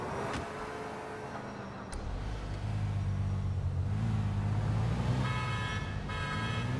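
A car in the video game Grand Theft Auto IV idles and revs up, its engine rumbling and building in level, with a brief horn-like toot and traffic noise around it.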